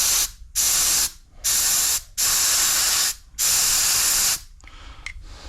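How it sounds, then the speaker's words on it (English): Compressed air sprays in four loud, sharp bursts through the carburetor of a snowblower that only runs while choked, each hissing blast about a second long and separated by brief silences, followed by softer faint clicks. "Definitely feel air coming out between my fingers,"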